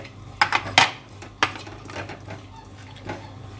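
Charoli nuts drop into a pan already holding cashews and almonds, making a few sharp clinks and light rattles of metal and nuts, then softer scattered tapping as they settle, close up with no talking.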